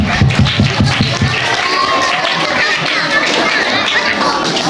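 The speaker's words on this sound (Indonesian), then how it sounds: "Tepuk tangan buat teman-teman semuanya." Children in a Ramadan Islamic school class clap in a crowd, a burst of quick rhythmic applause near at hand that blends into lively chatter and shuffling noise.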